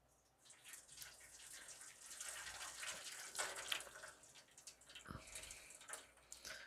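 Ninety-year-old vegetable soup is poured out of its container, giving a faint, close liquid splashing and trickling with a few drips, quiet and continuous.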